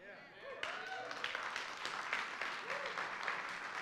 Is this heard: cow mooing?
no